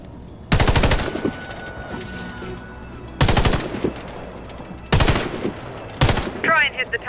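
Bursts of automatic rifle fire from a soldier's weapon in the shooter game Warface, four loud rattling volleys of roughly half a second each, separated by quieter gaps with faint game ambience.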